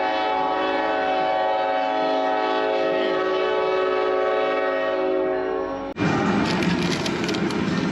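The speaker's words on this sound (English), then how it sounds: "Oh my gosh, the train." A passing train blasts a long, loud, steady horn near a campsite in Arizona, then the horn cuts off into rushing rail noise and the rumble of cars going by.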